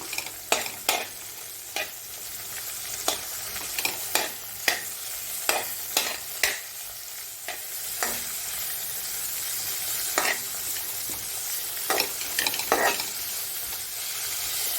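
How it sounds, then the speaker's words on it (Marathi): Coriander with its stems being sautéed in a pan for chili thecha: a steady close sizzle under repeated sharp scrapes and taps of a spatula against the pan, some twenty strokes in an irregular rhythm, with no voices. "कोथिंबीर टाकूया आता परतून घेऊ अजून"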